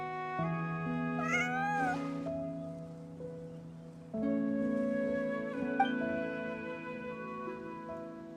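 A cat in the video game Genshin Impact, with sustained tonal meow-like cries over steady game music that swells and shifts, the calls close and clear with no talking.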